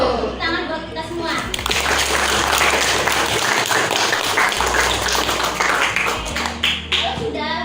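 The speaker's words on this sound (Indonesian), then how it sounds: "Tepuk tangan buat kita semua." Classroom of students clapping together in a sustained burst of applause, dense and close, with a few voices calling out underneath.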